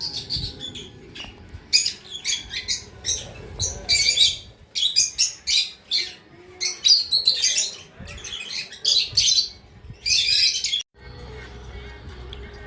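Small birds chirp and tweet in quick bursts throughout an aviary at a Cornish animal adventure park, with busy overlapping calls, fairly close and lively, over a low outdoor background.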